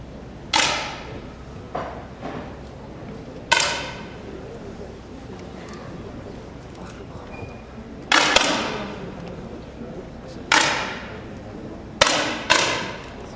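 Men's 10 m air rifle shots ring out in the final of a European Championship in Meråker, Norway: seven sharp cracks at irregular intervals, each with a short decaying ring, over faint hall ambience.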